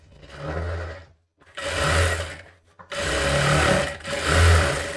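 Sewing machine stitching the back piece of a katori blouse, running in four bursts of steady motor whir separated by short pauses, close and fairly loud.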